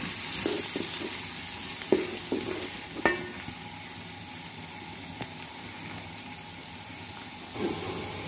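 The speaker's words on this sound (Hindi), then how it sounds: "इसके लिए हम तेल डाल रहे हैं, प्याज डालेंगे" Onions frying in hot oil in a home kitchen pan for chicken palak, a steady close sizzle broken by stirring scrapes and a few spatula taps, with no one talking.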